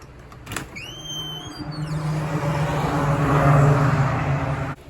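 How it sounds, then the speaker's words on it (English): Traffic on a highway just outside a home studio door, a soft continuous whoosh of passing cars swelling gradually to a louder pass, with a brief squeak and faint room hum early on and no talking. "Right outside my door is a highway. Cars are going by."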